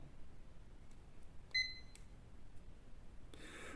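A digital multimeter in continuity mode gives one very short, faint beep while its probes test a discharged low-capacitance capacitor on a circuit board, with a few soft clicks around it.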